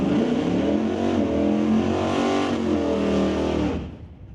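A 1966 Chevelle drag car launches at an outlaw shootout at Mission Raceway Park, its engine roaring loud and steady with rising harmonics for several seconds before the sound falls away as it moves off.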